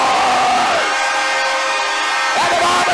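A home crowd at a junior hockey arena in Flin Flon roars loudly after a goal for the Bombers, with a sustained wash of cheering and a horn blaring over it that fades and then sounds again near the end.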